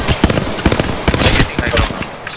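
Loud, close gunfire rattles through an Apex Legends battle, with rapid uneven shots and thumps packed tightly over a couple of seconds.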